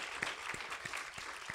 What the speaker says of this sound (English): let's have a round of applause for Vicki for all that hard work she's done